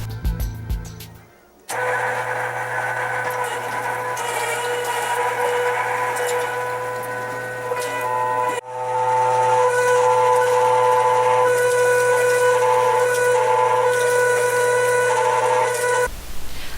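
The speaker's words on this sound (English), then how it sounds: "Now it's time to grind up some pork." An electric meat grinder grinds pork for homemade pepperoni sausage, a loud steady motor hum that runs nearly unbroken after a brief start, with a slight change in pitch midway.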